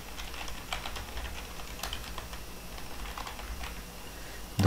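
Computer keyboard being typed on while a registration form is filled in: quick, irregular clicking keystrokes, close and fairly soft, with a louder clack at the very end.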